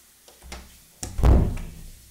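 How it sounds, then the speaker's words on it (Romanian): A door of a public toilet at a town hall is slammed shut: a couple of faint knocks, then a loud, close thud with a short rumble. "O cucoană care s-a încuiat aici și mi-a trântit ușa în nas."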